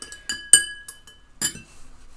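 A metal spoon stirs remedy water in a glass, giving several sharp clinks against the rim in an uneven rhythm, ringing briefly in a quiet room.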